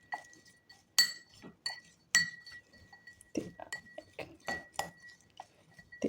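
A spoon clinks and scrapes against a bowl while green chilli pickle is mixed with salt and turmeric, giving irregular bright taps and knocks with short pauses between strokes.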